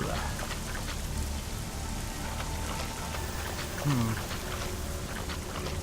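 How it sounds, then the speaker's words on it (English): Torrential rain in the video game De-Void pours down as a dense, even patter that fills the whole scene, steady and close, with a brief low tonal sound partway through. "This is torrential rain, isn't it?"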